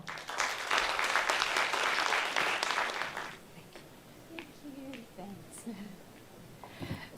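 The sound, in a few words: audience applause for Mrs. Trina Ong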